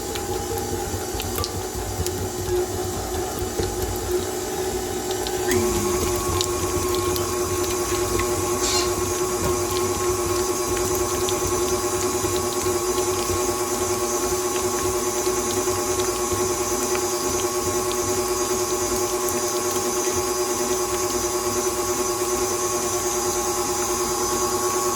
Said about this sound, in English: I'm going to let this blend until it's nice and smooth